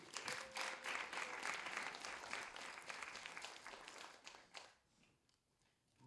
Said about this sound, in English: That applause died down pretty quickly.